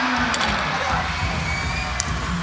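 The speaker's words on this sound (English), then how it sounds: "They still got the crowd all out of their seats and on their feet." Arena crowd at a FIBA 3x3 Asia Cup 2024 basketball game roars in a steady, dense wash of cheering and shouting, with a couple of sharp bright accents, likely whistles or squeaks, poking above it.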